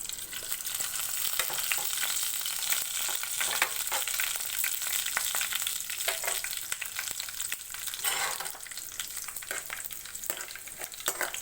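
Steady, close crackling and spitting of seeds frying in hot oil, with occasional stirring scrapes and no voices.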